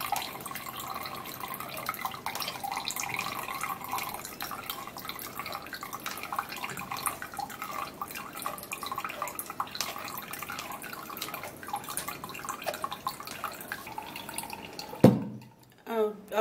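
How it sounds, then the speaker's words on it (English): Juice pours and drips through a strainer into a cup in a steady trickle of light patter and splashes, close by, ending with a few handling clunks. "I'll have to be turning this into the strainer while it goes down to the cup."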